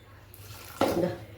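Water is poured briefly into a pressure cooker holding cluster beans (seeni avarai), a short, close splash of about half a second after quiet room tone.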